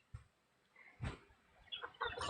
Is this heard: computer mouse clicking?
no